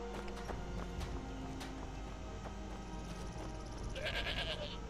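A sheep in the video game Skyrim gives a single bleat near the end, over steady in-game ambience with a soft clopping of hooves.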